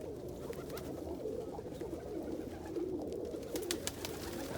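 Pigeons, mainly Indian fantails and rollers, coo steadily inside a loft, soft overlapping low throaty calls with faint wing flutters and scratchy clicks, continuous and moderately close with no talking.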